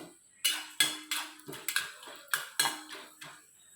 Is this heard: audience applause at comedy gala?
no